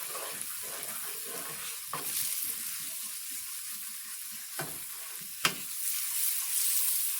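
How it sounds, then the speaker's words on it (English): Flour roux being stirred in a hot pan, with a soft steady sizzle and scraping strokes, and a few sharper clinks of the utensil against the pan. "We're going to stir it all. Basically, we're making a roux."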